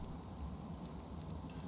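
Rain falling in the video game Planet Crafter, a steady soft low hiss and patter of rainfall, faint and even throughout, with no voices.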